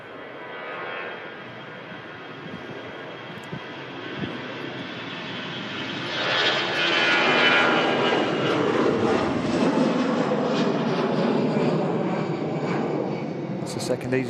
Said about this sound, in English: rolling on the runway out to Palma is our next departure from EasyJet